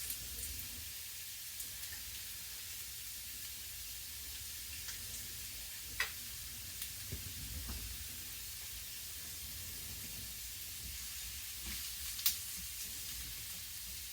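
Sausage, meatballs, carrots and other vegetables sizzling steadily in a skillet, an even close hiss with a few faint pops and a clink now and then, no voices.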